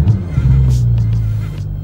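A Porsche 911 GT3 engine fires up inside a garage warehouse, settling into a loud, steady low throbbing hum that holds close and continuous.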